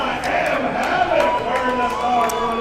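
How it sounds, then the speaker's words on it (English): A crowd in the stands at a roller derby game cheers and yells continuously, a dense roar of voices with whoops rising above it, loud and sustained. "A lot of cheering here in the stands"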